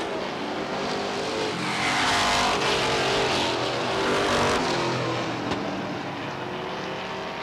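Race cars roar down the back straightaway at Star Speedway, a dense, loud engine drone that swells and fades as the pack passes, steady throughout with no talk.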